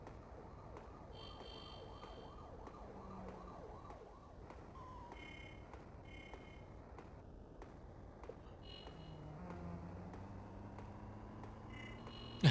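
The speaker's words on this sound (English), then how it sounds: "It's like cityscape sounds." Layered city ambience from the video game Wario Land 4: a steady wash of noise with a siren-like wail rising near the end, with no talking.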